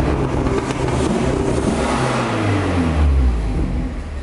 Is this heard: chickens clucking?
no